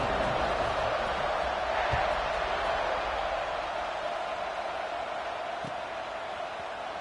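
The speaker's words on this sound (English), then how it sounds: "this crowd now ready to get behind them" Steady broadband stadium crowd roar from the College Football 26 video game as a kickoff approaches, a constant wash of cheering noise holding at an even level throughout without any clear speech.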